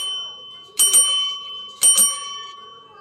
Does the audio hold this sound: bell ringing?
yes